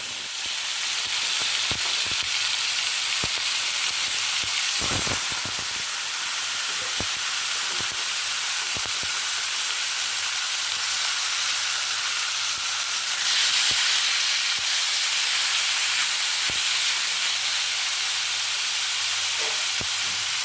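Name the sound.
marinated chicken pieces frying in hot oil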